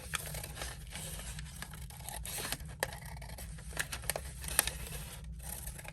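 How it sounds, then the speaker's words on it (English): Scissors cut through a glued paper bag with close, crisp snips and crinkling rustles, a series of irregular sharp cuts with no talk. "So I'm cutting out the sides and I'm cutting out the back side where that paper bag is glued together."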